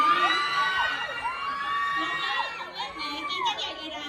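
At a teen film promotion event in a shopping mall, a crowd of fans screams and cheers without a break, with shrill high-pitched shrieks rising and falling, and some voices call out among them.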